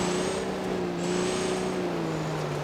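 An Autobello Stambecco climbs a hill off-road in Johnson Valley in BeamNG.drive, its simulated engine humming in a steady droning tone that slowly drops in pitch, with no talk.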